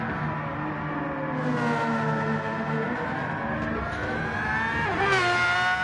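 Onboard Formula X race car in a racing game on the Tokyo Expressway South Inner Loop, its engine a steady high-pitched whine that climbs through the revs, dips at a gear change and builds again, loud and continuous with no talk.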